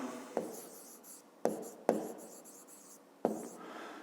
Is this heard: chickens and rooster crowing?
no